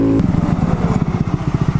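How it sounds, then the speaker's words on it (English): A Honda Grom motorcycle fitted with a 14/37 sprocket hums steadily at close range, its rapid engine pulses throbbing with intake and exhaust noise while being ridden. "I think I hear the intake more than I hear the actual exhaust"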